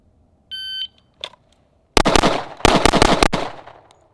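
A shot timer beeps once, then a string of rapid pistol shots rings out loud and close, ending in a burst of quick cracks during a live-fire drill.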